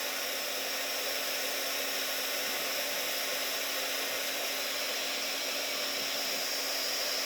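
A heat tool blows steadily to melt embossing powder on a papercraft project, a constant loud whirring hiss with a faint motor hum running unchanged throughout, close up and with no talk.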